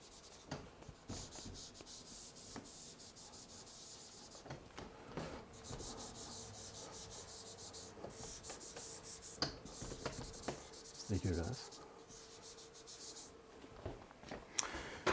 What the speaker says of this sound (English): I can erase that